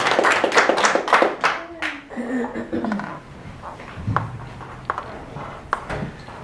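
A bookstore audience at Book Passage welcomes author Bill Amatneek with a short burst of applause that fades into a few scattered claps while voices murmur.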